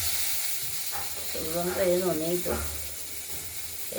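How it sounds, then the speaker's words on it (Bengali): Bay leaf, dried red chili and cumin sizzle in hot oil for a Bengali rohu fish curry, a steady close hiss that swells briefly while a voice speaks over it. "এই তেলের মধ্যে ফোড়ন দেব তেজপাতা শুকনো লঙ্কা জিরে"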